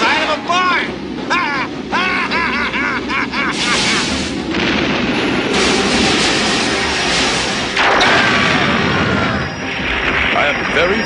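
Heavy cartoon gunfire and artillery-like blasts from the 1988 animated RoboCop series, sustained and loud throughout, with shouted voices and a dense battle soundtrack over it.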